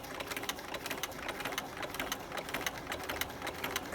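A sewing machine stitches a trouser waistband with a fast, steady mechanical whir and rapid needle clatter, close and continuous throughout.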